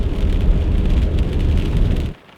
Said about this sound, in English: the rain never turned to snow